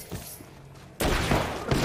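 A kick smashes a window in Apex Legends: one sudden, loud crash and shatter bursts out of quiet game ambience, with a sharp second knock just after.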